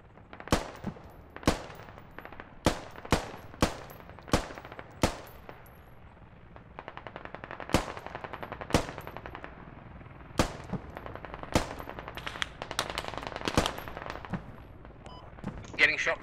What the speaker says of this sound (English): Getting shot from the west.